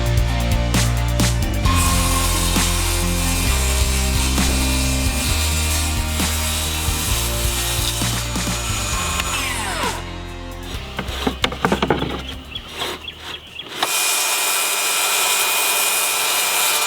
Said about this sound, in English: And here I'm cutting the back portion right here. This is the angle cut